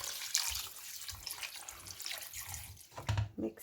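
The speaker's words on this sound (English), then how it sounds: "Now for 3 cups of rice, I'm gonna add 6 cups of hot water." Hot water poured steadily into soaked basmati rice in a cooking pot for Yemeni-style chicken pulao, six cups over three cups of rice, a close, continuous splashing stream with no talking.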